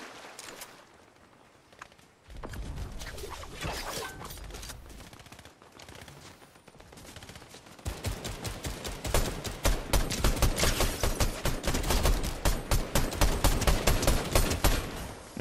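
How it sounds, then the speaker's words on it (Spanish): Rapid bursts of Fortnite video-game gunfire, sparse at first and then a dense, loud volley of sharp automatic shots that keeps going through the second half, with no talking over it. "Me están rozando disparos"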